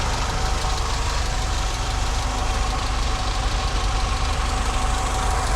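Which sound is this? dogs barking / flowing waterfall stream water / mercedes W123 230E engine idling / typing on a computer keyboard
mercedes W123 230E engine idling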